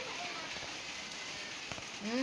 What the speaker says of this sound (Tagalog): Gabinuang ra man gining ulan na.